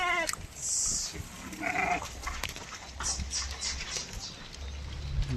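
Sheep bleat several times during a village festival, some close and some farther off, over steady outdoor rumble and faint background noise.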